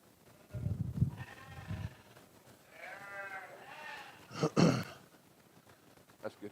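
Katahdin sheep bleating at a 4-H county sheep show, several wavering bleats at moderate distance, the last one louder, with people talking nearby between them.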